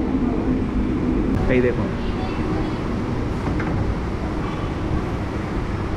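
A local train at Belur Math station in Kolkata gives off a steady low rumble and hum, constant and fairly close, while a person speaks briefly over it.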